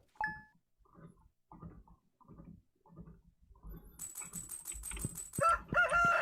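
Rooster crowing in an NES video game: a run of evenly spaced, chunky sound-effect pulses that builds into loud, bright, repeated electronic crowing and clucking bursts near the end. No voices.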